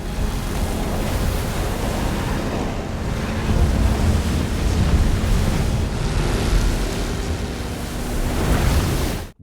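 Big ocean waves crash and surge in a film scene, a continuous heavy roar of surf with wind rushing over it and swells building toward the end, with no voices.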